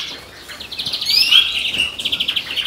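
Birds in a garden aviary, including blackbirds, call close by with bright chirps and whistled phrases, rising into a dense run of quick repeated tweets toward the end, with no voices.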